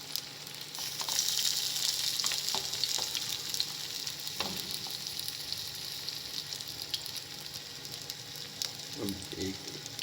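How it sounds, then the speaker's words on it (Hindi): Aloo tikki, potato patties, frying in hot oil in a pan, a steady hiss and crackle of sizzling throughout with a few soft clinks and scrapes of a utensil, no talking. "अब इसको करते हैं फ्राई।"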